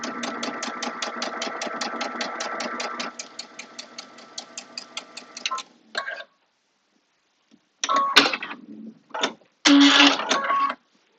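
A sewing machine runs in a fast, steady stitching burst as quilt block pieces are sewn edge to edge, then stops, followed by a few short handling sounds and brief machine noises.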